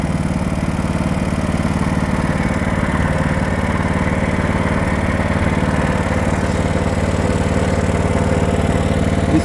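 A snow blower engine runs steadily right after starting, a loud, even mid-pitched putter with a constant rhythm throughout and no talk.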